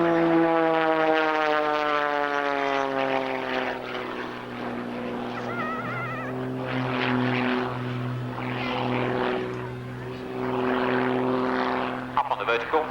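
A two-seater aerobatic propeller aircraft performs at an RAF airshow, its engine droning steadily with a slowly shifting pitch as it manoeuvres, while a commentator talks over it.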